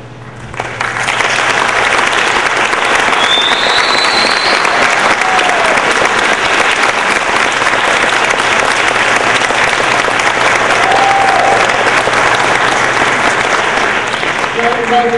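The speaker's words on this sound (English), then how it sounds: "Well-deserved applause" A school board meeting audience breaks into loud, sustained applause that swells within the first second and holds steady and dense for the rest, with faint voices beneath.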